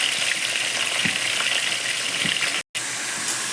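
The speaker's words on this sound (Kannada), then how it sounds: "ಒಂದು 5 ನಿಮಿಷ ಇದು ಎಣ್ಣೆಲೆ ಫ್ರೈ ಆಗಬೇಕು." Capsicum mutton keema frying in oil in a pan, a steady dense sizzle that holds loud and even, with a brief dropout near the end and no voices.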